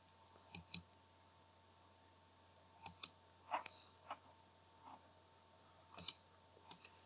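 Computer mouse clicks during Microsoft Word editing: sparse, crisp, faint clicks, some in quick pairs, spaced irregularly over a quiet background with no talking.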